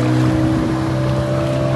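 A speedboat tows a bumper ride across the sea off Goa, its motor a loud, continuous drone blended with wind and water rush, heard up close for a moment.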